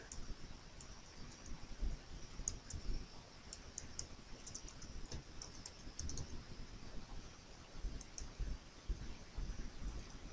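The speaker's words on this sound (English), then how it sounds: "So let's type in this CAPTCHA." Light keystrokes on a computer keyboard while entering a CAPTCHA, a quiet scattered run of soft clicks in small irregular bursts over a low room hiss, with no voice.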